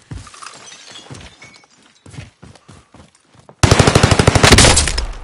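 Video game gunfire breaks out under hostile fire: scattered sharp shots at first, then a loud, dense, rapid automatic burst that keeps hammering for the last couple of seconds.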